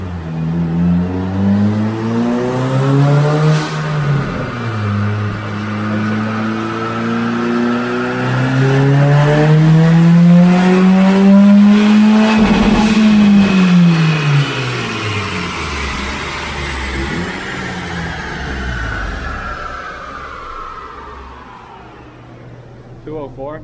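A turbocharged Toyota Corolla making over 200 wheel horsepower on a dyno revs hard, its engine note climbing steadily to a loud peak, then falling away. The sound is close and sustained.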